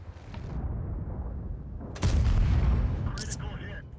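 A tank's main gun fires in a video game, one sharp heavy boom after a low engine rumble, followed by a shorter burst of impact noise and lingering rumble.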